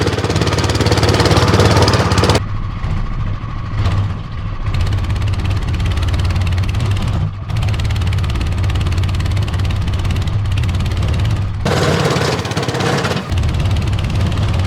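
Loud, steady engine roar from a homemade mini tractor driving over rough, bumpy ground up banks and through holes, the drone rising and dipping with load and no talk.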